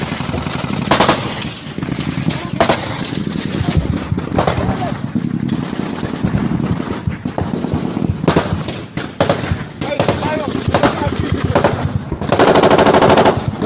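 Footage of an ambush on Nigerian soldiers carries loud bursts of automatic gunfire and scattered single shots, rapid and sustained, with voices speaking under the shooting.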